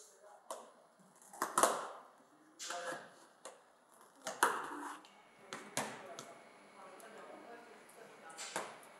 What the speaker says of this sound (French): le confiseur la découpe en morceaux à l'aide de ses grands ciseaux